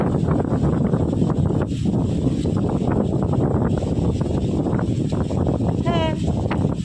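Wind blowing beside Salt Lake, a steady broadband rush and rumble across the microphone that runs throughout, with people talking over it.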